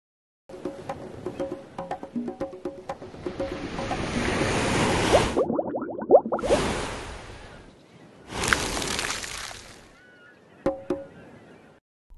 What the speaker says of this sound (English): A wave is when the top of the water moves.